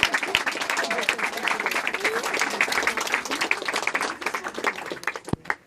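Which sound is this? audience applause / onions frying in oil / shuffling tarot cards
audience applause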